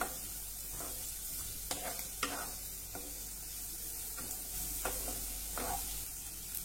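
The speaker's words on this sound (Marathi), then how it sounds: "हे आपण थोडं परतून घेऊया। मध्यम गॅसवर हे परतून घ्या।" Carrots and whole sweet corn kernels sautéed in a pan over a medium flame, a soft steady sizzle broken by repeated scraping strokes of a spatula against the pan at irregular intervals, quiet and close.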